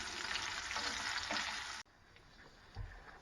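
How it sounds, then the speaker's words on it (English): Bacon frying in a pan, cooked alongside collard greens for a goose breast dish: a steady broadband sizzle that cuts off abruptly midway, followed by quieter crackling and a brief low thump. "First thing we're going to do is fry us up some bacon."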